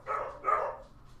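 A dog gives two quick, fairly quiet barks in a short burst, then falls silent.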